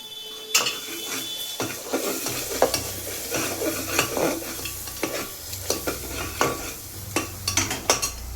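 Spices and onions are stirred and sautéed in a pan for biryani, a bright continuous sizzle broken by rhythmic scraping strokes of the spoon, close and fairly loud.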